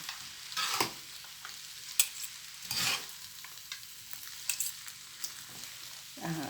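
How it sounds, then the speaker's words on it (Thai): A spatula stirs and tosses Pad Thai with fresh shrimp, rice noodles and a small handful of bean sprouts in a hot pan. Irregular scraping bursts sit over a faint, steady sizzle, with no voices. "ใส่ถั่วงอกลงไป เนาะนะคะ นิดหน่อย ไม่ต้องเยอะนะคะ ก็คลุกเคล้านะคะให้เข้าเส้น"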